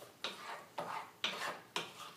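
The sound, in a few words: stirring red pepper flakes into pasta sauce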